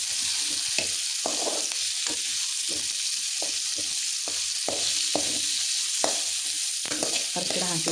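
Ridge gourd curry with turmeric sizzles steadily in a pan, with a spoon stirring and scraping in repeated short strokes over a constant frying hiss and no talking.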